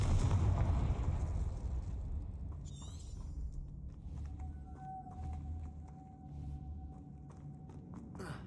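A Confringo blasting spell goes off in a Harry Potter video game: a loud, low explosive boom at the start that rumbles and fades into game ambience, with small pops and a faint tonal hum afterward.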